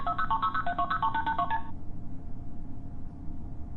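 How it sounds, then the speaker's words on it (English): A quick run of telephone touch-tone dialing beeps plays in a SpongeBob remake, clear and regular for about a second and a half, then gives way to a low steady hum. "And we're dialing on the phone"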